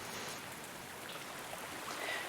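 Continuous patter of rain in a farming video game, a dense, even wash of falling water that stays level throughout and swells slightly near the end, with no voices.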